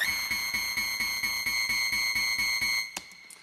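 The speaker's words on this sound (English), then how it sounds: "Here is the squeaky noise soloed out." Soloed screechy wobble bass synth, a squeaky high harmonic tone pulsing in a steady rapid rhythm, loud and alone, then cut off abruptly near the end.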